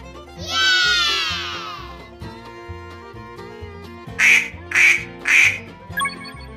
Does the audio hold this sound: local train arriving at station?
no